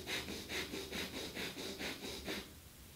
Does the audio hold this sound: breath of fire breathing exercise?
yes